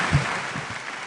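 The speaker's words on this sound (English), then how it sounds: "Another hearty round of applause, please, for the 2022 class of academic All-Staters." Applause for the 2022 class of academic All-Staters at an academic awards celebration, a short, steady burst of many hands clapping in a hall with no voices over it.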